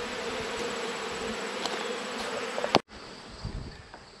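Honey bees buzz steadily around a honey extractor outdoors, a dense insect drone with individual bees passing close, broken by a sharp click partway through, no voices.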